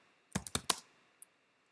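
A short burst of four quick, crisp computer keyboard keystrokes, close and clear in a quiet room, followed a moment later by one lighter click.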